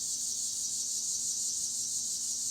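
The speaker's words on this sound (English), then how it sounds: "Those are crickets." Crickets chirp outdoors in a dense, continuous high-pitched trill at steady volume, with no voices or other sounds in the background.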